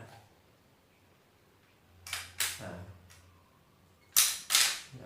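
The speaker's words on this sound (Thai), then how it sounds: "ยิงนัดที่ 1ครับ เมื่อ เกิดการระเบิดด้านในก็จะดันกระสุน ดันปอกออกนะแล้วกระสุนนัดต่อไปขึ้นมาครับ" A Remington 1100 semi-automatic shotgun fires twice, each loud blast followed closely by the metallic clack of the action cycling, the shots a couple of seconds apart in a quiet outdoor setting.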